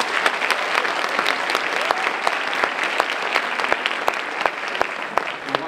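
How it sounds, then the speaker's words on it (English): A high school sports awards night audience applauds, steady crowd clapping with distinct sharp claps from close by standing out, loud and sustained throughout. "Let's give them a round of applause,"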